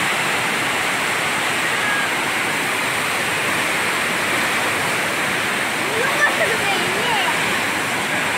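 Strong rushing torrent of Cipamingkis waterfall, a loud steady roar of falling water that fills the whole clip without a break, with faint voices barely audible beneath it.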